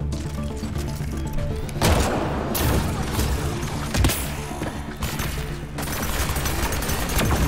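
Turret gunfire in the video game Mass Effect Andromeda: several sharp bursts of shots crack out across the scene amid combat noise, with loud peaks scattered irregularly over several seconds.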